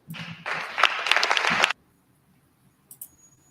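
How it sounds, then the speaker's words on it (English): Crowd applause at a political speech by Doug Ford, a dense burst of clapping lasting about a second and a half before cutting off abruptly, followed by near silence with a couple of faint knocks. "So now you see these Europeans clapping on Doug Ford's speech"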